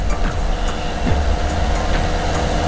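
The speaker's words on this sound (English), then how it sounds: "We're running the water truck" A water truck runs steadily on a motorized recreational trail during AggreBind stabilization work, its engine a continuous low, loud rumble with no pauses.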